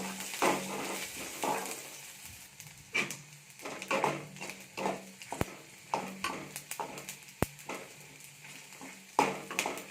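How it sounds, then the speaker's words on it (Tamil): Cumin, dry red chillies and tamarind are roasted in a pan for a curry leaf chutney. A spoon stirs and scrapes in irregular close bursts with a few sharp knocks against the pan over a faint sizzle. "சேர்த்து நல்லா வறுத்துக்கலாம்."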